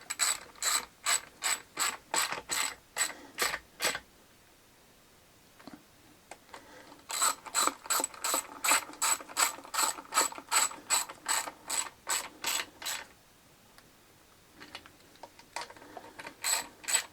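A hand ratchet tightens the nuts, each over a spring washer, onto studs. Two quick bursts of rapid clicking come up close, with a pause between them. A shorter burst follows near the end, and no one speaks.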